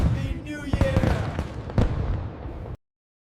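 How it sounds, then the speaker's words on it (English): Fireworks bursting over the River Thames in London on New Year's Eve crackle and pop in a dense run of sharp bangs, loud and fairly near, with crowd noise mixed in before cutting off abruptly. "Fireworks over the Thames"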